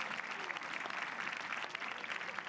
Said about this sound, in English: This crowd giving her some cheers.